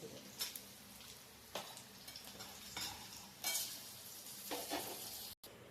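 Curry leaves hit a hot pan of oil and dal while dondakaya roti pachadi is being cooked, giving a soft steady sizzle broken by several scraping stirs of a spatula, quiet and close.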